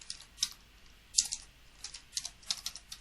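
Keystrokes on a computer keyboard as a firmware flashing command is typed, a handful of sharp, separate clicks spread irregularly over a quiet background with no talking.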